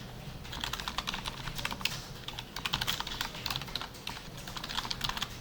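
Fingers tap on a computer keyboard at close range, quick irregular clusters of light clicks separated by brief pauses, moderately quiet with no talking.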